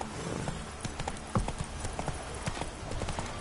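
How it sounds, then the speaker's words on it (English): Horse hooves clip-clop in a video game, a steady run of close, distinct hoof strikes with a slight irregular gallop rhythm over a faint ambient bed. "Whoa there, Roach."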